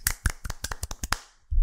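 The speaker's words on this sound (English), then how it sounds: "Round of applause. Let's clap." Hands clap about nine times in a quick, uneven burst close to the microphone, celebrating a Tekken platinum trophy. A brief low thump follows after a short pause.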